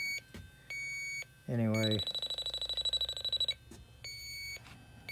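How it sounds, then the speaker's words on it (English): A refrigerant leak detector beeps rapidly in steady pulses while checking an evaporator coil, broken by a brief rising warble; a voice speaks briefly. "everybody hates the beeping and the sound of a leak detector here"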